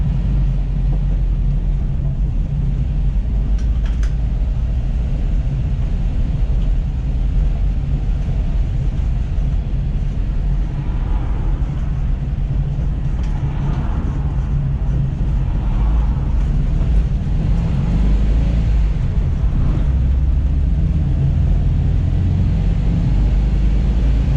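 Restored Volkswagen Kombi van with a badly worn wheel bearing on a drive, a loud, steady low rumble of road and drivetrain noise filling the cabin throughout, with faint grinding undertones and no talking.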